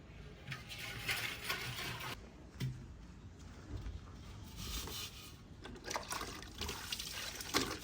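Clay water pots being washed, with water splashing, trickling and pouring in repeated bursts close by, some louder sloshes in between, and no talk over it.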